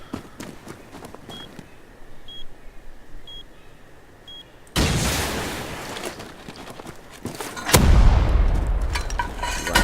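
Rockets explode in the survival game Rust: quiet beeps and footsteps lead into two heavy, close blasts, each followed by a long rumbling roar, with no talking.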